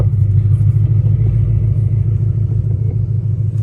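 A Ford Mustang Dark Horse with a 1200 hp engine and stick shift idling loudly up close, a deep, steady low rumble with slight pulsing and no talk.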